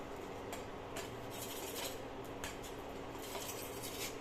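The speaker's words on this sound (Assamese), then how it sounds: "এয়া মই ইয়াতে সৰু সৰু টুকুৰা কৰি আছোঁ" A knife cuts food into small pieces on a plate, producing quiet scattered clinks and scrapes of metal on crockery over a low steady background hiss.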